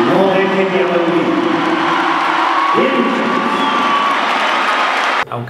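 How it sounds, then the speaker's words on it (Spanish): An audience applauds at a live concert in Torreón. Dense clapping and cheering carry on with tonal voices or music over them, ending abruptly near the five-second mark. "Gracias por esos aplausos que me hacen seguir viviendo y seguir cantando mientras que ustedes no dejen de aplaudir"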